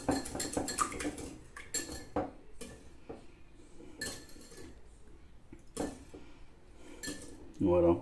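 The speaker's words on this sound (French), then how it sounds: "Vous les cassez à l'intérieur, le jaune et le blanc, bien remuer" Eggs stirred with a utensil in a bowl for homemade waffle batter, giving repeated clinks and scraping taps against the bowl in uneven bursts, close and fairly loud, with a louder knock at the end.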